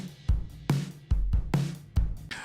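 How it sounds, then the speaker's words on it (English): Drum mix of kick, snare, overheads and a corridor microphone, thickened with parallel compression from the Klanghelm MJUCjr, playing a steady beat of punchy kick and snare hits with roomy ambience, alone. "To this drum mix, I'm also adding some parallel compression using the exquisite Klanghelm MJUCjr."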